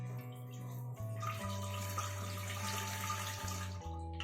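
Water runs from a tap into a cooking pot, a steady rushing pour with a tonal hum underneath, close and continuous for a few seconds.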